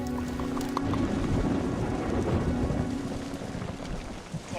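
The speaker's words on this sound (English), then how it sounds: "the rain's getting worse out here" Heavy rain pours down steadily outdoors in a dense, close hiss, while deep rumbles of thunder roll beneath it throughout.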